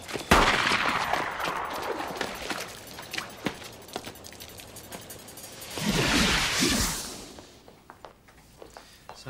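Bursts of gunfire crack in rapid volleys across the scene, a dense fusillade with a loud swelling blast midway, then scattered shots fading out.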